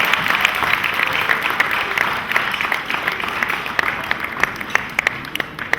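Church congregation applauding steadily, a dense wash of many hands clapping close by throughout, with no talk on top.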